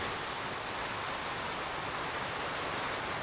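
Steady rain hisses throughout, an even wash of falling drops with no voices or breaks.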